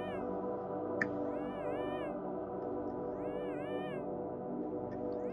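A cat in the game Yume Nikki meows in two drawn-out, wavering calls over a steady droning background tone, with a sharp click between them.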